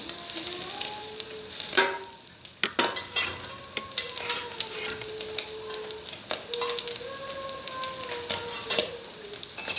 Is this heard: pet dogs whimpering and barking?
no